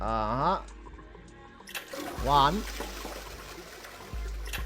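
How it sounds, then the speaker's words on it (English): One toilet flush from the Zero Escape 999 video game, a rushing gurgle of water that starts partway through, with someone speaking briefly just before it. "We flush it, baby. 4 times."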